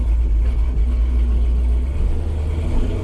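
A car with a 5.7 Hemi engine drives steadily. The engine drone and road rumble are loud and close, and they hold a constant level with no pauses.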